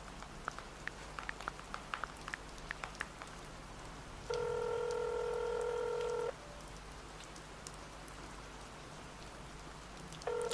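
A phone call rings out as a steady two-second ringback tone, then starts again after a long gap. Soft crackling taps sit underneath, like rain.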